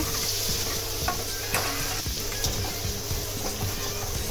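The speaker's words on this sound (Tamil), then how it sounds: "நூறு கிராம் சின்ன வெங்காயம் எல்லாம் எல்லாத்தையும் தனித்தனியாக அரைச்சி நல்லா போட்டு வதக்கிட்டுருக்குறேன்" Ground ginger, garlic and shallot paste sautés in a pan for seeraga samba chicken biryani, giving a steady close sizzle with repeated scraping and stirring.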